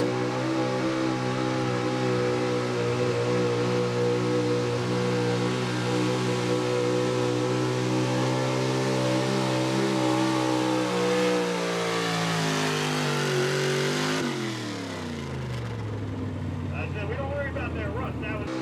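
A 1979 GMC gas 4x4 pulling truck roars under full load through a pull, a loud, steady high-revving engine drone that sags in pitch near the end and drops off as it winds down, with talk audible beneath it.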